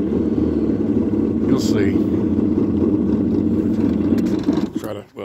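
The engine of a 2000 Yamaha XL800 watercraft idles low with a surging character, a steady loud rumble that runs under a man's brief speech before cutting off abruptly at the end.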